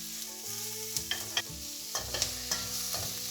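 Onions stir-frying in a wok, a low sizzle broken by several sharp scraping strokes and clinks of a spatula against the pan, close and quiet, no voices.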